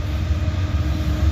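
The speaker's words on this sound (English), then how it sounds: "Got a train heading at us." A manifest freight train heading toward a trackside spot near a rail yard, giving a steady low rumble and rolling drone that stays loud and close throughout, with no voices.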